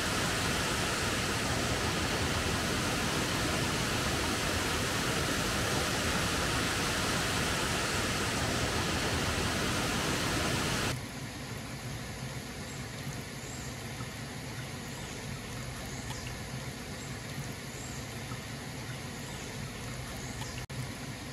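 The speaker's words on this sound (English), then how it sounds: "it's a beautiful waterfall" Steady broadband roar of a waterfall at Blowing Springs RV Park in Bentonville, Arkansas, loud and unbroken for about eleven seconds, then dropping abruptly to a quieter, more distant rush.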